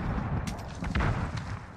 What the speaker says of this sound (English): I threw two stuns and a nade.